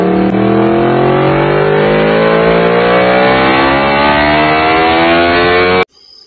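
A motorcycle engine revs loud and close, its pitch climbing steadily as it accelerates before cutting off abruptly near the end.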